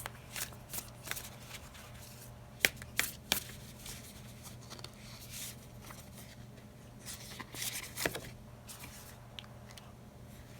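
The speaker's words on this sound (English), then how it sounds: "I'm going to pull another oracle from this particular deck" Oracle card deck shuffled and cards pulled by hand in a quiet room, a series of soft riffling flutters and sharp card snaps, close and fairly faint, with a low steady hum underneath and no talking.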